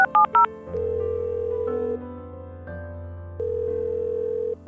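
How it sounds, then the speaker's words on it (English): A phone dialing sequence with a few quick keypad tones, then a steady electronic call tone humming in long unanswered stretches, shifting pitch between segments, loud and close with no voices. "I grabbed my phone and dialed Diaco's number for the third time"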